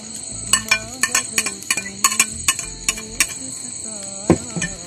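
Coriander leaves being stirred into beef cutlet masala in a pan, with a series of light metallic clinks and scrapes of a spoon against the pan, irregular and close, some soft sizzling underneath, no talking.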